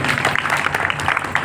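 An indoor audience at a religious discourse claps steadily, a dense even patter of many hands that holds loud and close throughout without pause.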